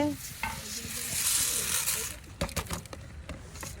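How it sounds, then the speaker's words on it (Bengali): Rice, lentils and spices frying in a pot for khichuri, outdoors by a lake, with a rising sizzle and then clattering stirring strokes close by, while people talk over it. "এখন একটু আমরা যেটা বাসায় করি একটু ভেজে নিলে ভালো, এই জন্য ভাজতেছি"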